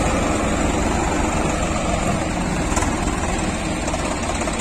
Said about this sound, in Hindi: और ट्रैक्टर देख लो एक बार, पीछे लैंड फोर्स का रूटावेटर है फुल ब्लेड